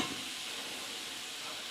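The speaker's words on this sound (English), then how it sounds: "you can hear that sizzle" Vegetables fry in a pan with curry powder, giving a steady, close hissing sizzle that holds evenly throughout with no talking.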